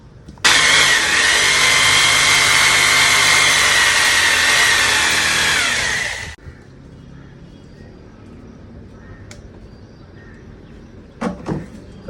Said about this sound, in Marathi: चला आपण ड्रिल लावूया.